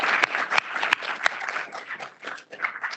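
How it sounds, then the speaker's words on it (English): Audience applauding a panel at a business event on childcare, a steady patter of many hands clapping for about three seconds with a few sharper individual claps standing out, no speech over it. "a round of applause"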